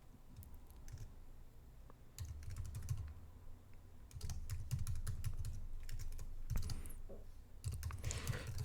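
Rapid clicking of keys on a computer keyboard comes in bursts of typing separated by short pauses, close and fairly crisp against a quiet room.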